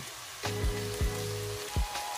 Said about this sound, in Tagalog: Medyo igisa muna natin.